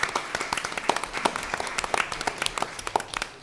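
A small audience claps during a school board meeting, with distinct, uneven individual claps rather than a dense roar, fairly close in a modest room.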